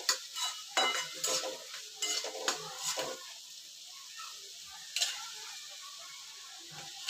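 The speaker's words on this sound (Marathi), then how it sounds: "चांगलं ढवळून घ्यायचं" A spoon stirs pasta with pasta masala in a cooking pot, giving several close, scraping strokes in irregular bursts over a faint sizzle, then a quieter pause and one more scrape.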